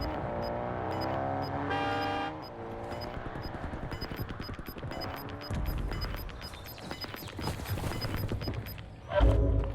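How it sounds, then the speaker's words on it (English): Vehicle engine approaching in a Warzone battle royale match on Verdansk, heard with horn-like tones and bursts of gunfire, under intermittent game sounds; a player talks briefly. "Another car pulling up, though."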